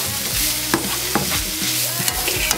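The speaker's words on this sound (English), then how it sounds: "now we'll go in with our mushrooms. Give that a bit of a stir around." Mushrooms fry in a hot pan with a loud, steady sizzle, broken by several sharp scrapes and taps as a utensil stirs them around.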